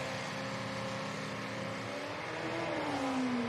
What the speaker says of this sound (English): Pretty healthy sounding little V8 in that. 6 litre Chev in the Jimco.